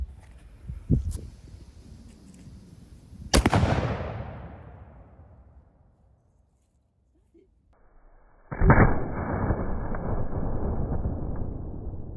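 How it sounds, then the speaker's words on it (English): A black powder cannon fires a stone cannonball at a cheap ceramic Level IIIA armor plate: one sharp, loud blast with a long decaying roar, then near silence and a second loud impact-like burst followed by sustained noise. "So let's see if this little ceramic 3A plate here from Temu can stop our cannon."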